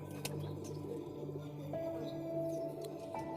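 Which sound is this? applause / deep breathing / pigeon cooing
pigeon cooing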